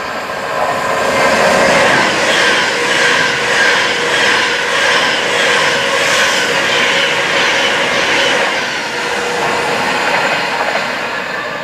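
Pendolino train passing northbound close by, a loud sustained roar with rhythmic wheel clatter and a high squeal over about twelve seconds, with no voices.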